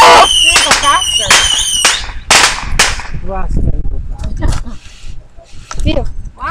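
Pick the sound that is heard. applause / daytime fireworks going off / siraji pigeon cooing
daytime fireworks going off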